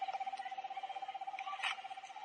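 Owl hooting in a film scene on an apartment rooftop: a steady, evenly pulsed call repeating about a dozen times per second, fairly faint and alone with no talk.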